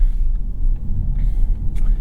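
A 2025 Audi A5 with the EA888 engine idles steadily with the air conditioning running, a close, continuous low rumble with no talking over it.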